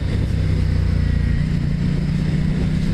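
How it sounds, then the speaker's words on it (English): A Ducati XDiavel motorcycle engine runs loud and close in a steady, throaty low rumble with a slight rise in revs partway through, with no talk over it. "This bike sounds absolutely glorious."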